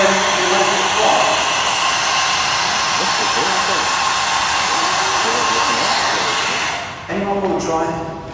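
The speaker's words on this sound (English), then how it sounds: "And then all you need is a hairdryer" A hair dryer blows with a steady loud whooshing hiss, then briefly dips and changes pitch near the end, voices faintly underneath.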